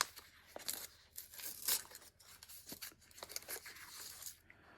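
Plastic bag holding a crochet kit with a metal 3mm hook, crinkled and handled in short irregular bursts of rustling close by, quiet throughout.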